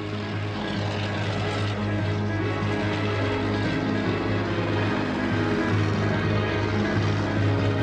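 Engines of two WWI fighter planes in flight over the Somme Valley, a steady, loud propeller drone with strong low harmonics that holds without a break throughout, with no talk.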